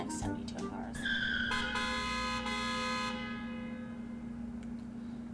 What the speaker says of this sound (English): a speeding car honks angrily at me